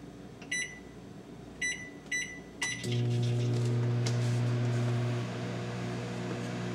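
Microwave oven heating milk for café con leche: several short beeps as buttons are pressed, then a loud, steady electric hum once it starts running, continuing alone to the end.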